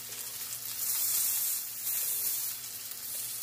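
Mushrooms sizzle loudly in a hot pan on high heat as they are flipped, a continuous bright hiss that swells and eases in waves.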